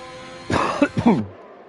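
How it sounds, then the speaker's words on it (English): A single muffled cough, close up, a short throaty burst that trails off into quiet. "I was trying to cough and it wouldn't come out."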